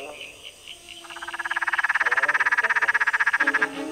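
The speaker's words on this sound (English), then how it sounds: "this is the frog that sounds like a tennis ball being hit" An Australian frog gives a fast train of hollow, knocking 'bok' calls like a tennis ball being hit, close and clear, steady in rhythm for a couple of seconds.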